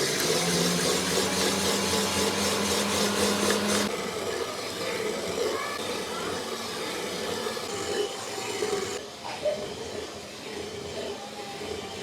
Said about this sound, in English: Make sure this is on there steadily and turn on your mixer.